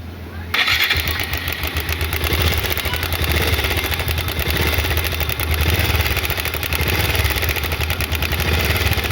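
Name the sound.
motorcycle engine running with cam chain noise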